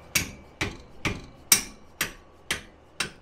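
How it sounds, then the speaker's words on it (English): Seven sharp, evenly spaced dead blow hammer strikes on a 2014 Subaru XV Crosstrek rear hub ring out one after another, each a crisp metallic knock with a short decay, close and fairly loud. "this is a dead blow hammer."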